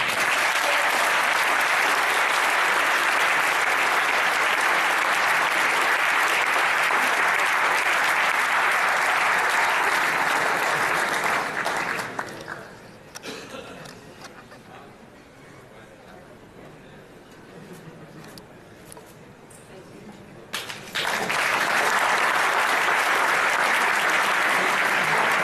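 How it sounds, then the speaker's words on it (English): Applause for award recipients at a NAM24 banquet awards ceremony, a loud, sustained wave of many hands clapping that dips into quieter murmuring chatter midway before the full clapping surges back. "I would like one big round of applause for all of the award recipients"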